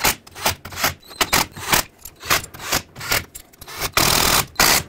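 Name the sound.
tightening bolts on Ford F-150 rear axle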